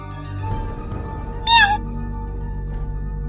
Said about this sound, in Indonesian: Seekor kucing muncul dari balik meja.